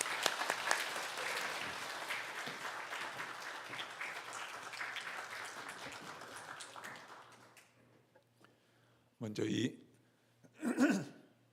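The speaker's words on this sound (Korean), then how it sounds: "우리 환영의 박수로 모시겠습니다." A church congregation claps in welcome at a Compassion Sunday service, with applause fading over about eight seconds, followed by two short bursts of nearby speech.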